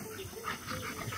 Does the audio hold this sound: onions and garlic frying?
no